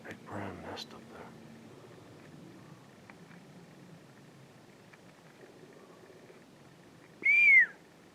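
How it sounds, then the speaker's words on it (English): A single short rising-and-falling whistle sounds out in the woods near the end, loud against a quiet, faintly rustling forest background, after brief low murmuring at the start. "I just got whistles up there."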